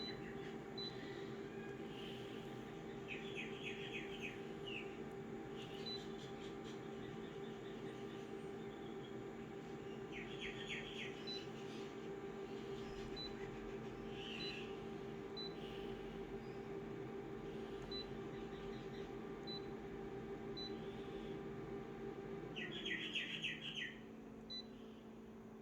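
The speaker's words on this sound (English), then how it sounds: "Got birds chirping away." Birds chirp outdoors in short bright bursts repeated every few seconds, moderately distant over a steady low hum and faint background noise.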